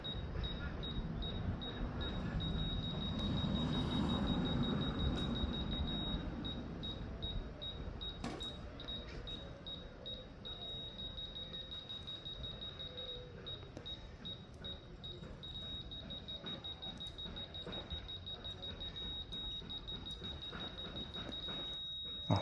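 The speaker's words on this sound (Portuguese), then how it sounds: "Então agora ele faz esse bip contínuo." A leveling tool emits a continuous high electronic beep at a construction site after being adjusted, a steady thin tone running through most of the stretch over rustling and handling noise, with only brief dips.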